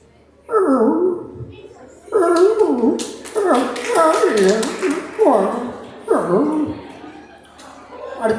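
A performer at a college arts day mimicry show imitates an exhausted dog, voicing a run of weary whines and whimpering yelps in bursts, loud and close.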